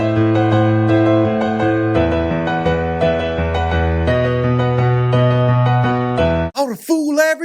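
Piano played with both hands together in a simple blues pattern, with low bass notes under brighter repeated chords, steady and close, ending with a brief exclaimed voice.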